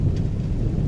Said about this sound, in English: Still lightning, thunder.